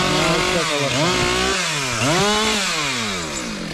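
A Husqvarna T540XP Mark III chainsaw cuts through wood up close. Its engine whines loudly and continuously, the pitch dipping and climbing as the chain bites and frees.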